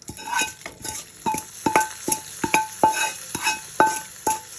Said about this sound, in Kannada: ಆ ಒಗ್ಗರಣೆಯನ್ನೆಲ್ಲ ಸಾಂಬಾರಿಗೆ ಹಾಕ್ಕೊಳ್ತಾ ಇದ್ದೀನಿ